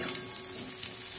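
Spices such as phoron and radhuni hit hot oil with a loud, dense, hissing sizzle that holds steady for a brief moment.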